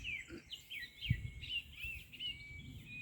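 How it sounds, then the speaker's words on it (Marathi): Sparrows chirp outdoors among Konkan greenery, a string of quick, high, repeated tweets at moderate distance over quiet ambience, with no talking. "चिमण्यांचा चिवचिवाट"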